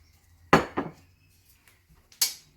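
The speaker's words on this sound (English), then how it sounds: "This is a pie shield and we will put it on the outside of the pie pan." A metal pie shield set onto the rim of a pie pan gives a sharp metallic clatter followed by a second clink, then a final bright clank a moment later, close and fairly loud.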